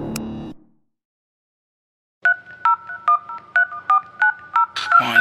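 Telephone keypad dialing tones, about nine short evenly spaced beeps after a brief burst of music and a moment of silence, clear and close, ending as another sound starts.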